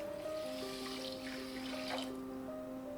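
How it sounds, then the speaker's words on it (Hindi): Water runs steadily into a metal pan with sugar in a quiet room, with faint ringing tones under the flow, making syrup for kala gulab jamun. "और 300 ml के करीब मैं पानी डाल रही हूँ।"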